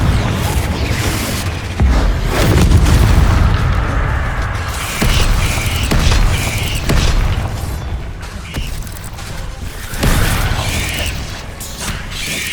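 Confringo blasting spells explode in a Hogwarts video game, with loud booming bursts near the start, middle and end over a steady mechanical rumble.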